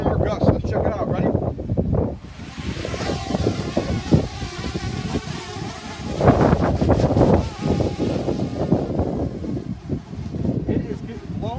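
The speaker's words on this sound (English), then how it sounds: "Alright guys, I'm sure you hear the wind. It's beating against the camera there." Strong wind gusts of about 20 to 40 mph buffet a camera microphone outdoors during a DJI Mavic Air drone test, a loud, continuous rumbling roar with surging peaks, while someone talks over it.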